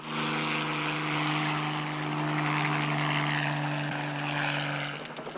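A police patrol helicopter drones steadily and loudly nearby, its engine and rotor hum constant throughout, with no talk over it.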